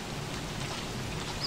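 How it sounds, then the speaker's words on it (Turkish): Frog rain in the video game Don't Starve Together plays as a steady, even wash of falling rain with faint watery patter, continuous and moderately loud for the whole short stretch. "İşte bak, kurbağa yağmuru."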